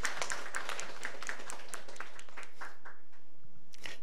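A church congregation clapping during a sermon: scattered, moderately close handclaps building briefly, then thinning to a few sparse claps before a final short burst.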